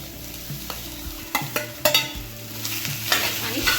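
A spoon stirring mashed potato with turmeric as it fries in a pan, with scraping strokes and knocks on the pan over a steady low sizzle, close and fairly loud.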